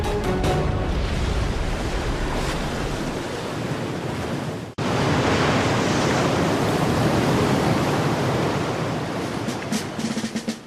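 Atlantic swell surges around the base of a wave-energy oscillating water column, a loud, steady broadband wash of surf with wind-like rush, briefly cut off near the middle before resuming at full strength.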